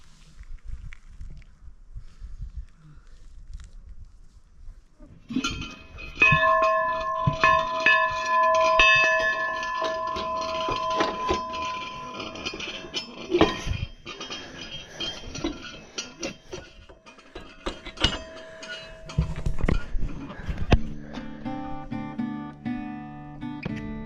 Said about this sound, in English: I bought this antique school bell and this antique yoke for the school bell a couple years back